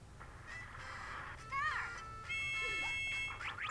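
Seagulls in the video game Mario Party squawk and honk in a few rising, warbling calls over a low background bed.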